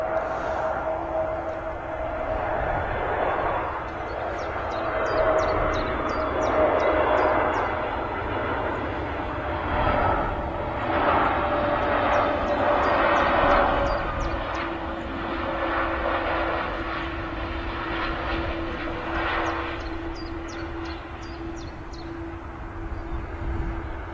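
A Pegasus Airbus A320neo jet touches down on runway 05 left at Manchester Airport, a loud, steady engine roar holding near for the whole stretch, with slow tonal shifts and swells as the aircraft decelerates.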